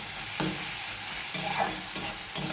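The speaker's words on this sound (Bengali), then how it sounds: "একটু নেড়ে ভেজে নেব।" Gheemi greens, already softened and releasing water, are stir-fried in a pan, with a steady sizzle punctuated by four or five close scraping strokes of the spatula.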